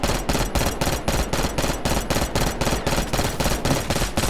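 Kompakt-92 firing repeated 3-shot bursts while aiming down sights in a shooter video game, a steady rapid train of loud, close gunshot bursts spaced evenly throughout with no talking.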